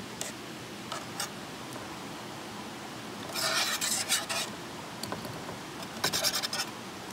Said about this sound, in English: Let's stir that around a little bit, let it kind of soak in there